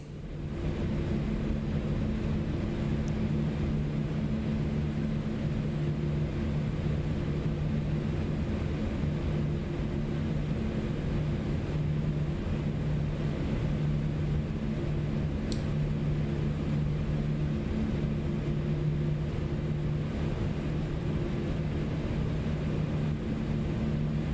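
An Inibuilds A340-300 taxiing at Hamad International in Microsoft Flight Simulator 2024, a steady low engine drone with a constant hum running evenly throughout, no voices.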